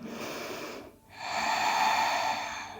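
Breathing during a yoga session: a long, airy breath, then a brief pause, then a deeper, sustained inhale, close and fairly loud, with no talk over it.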